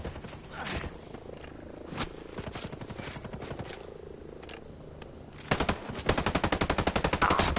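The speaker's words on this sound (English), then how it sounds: "I hear gunshots in the area." Gunfire in the tactical shooter Ghost Recon Breakpoint, played without a HUD: scattered single shots and short bursts, then a louder, sustained rapid-fire barrage near the end, close-sounding, with no speech over it.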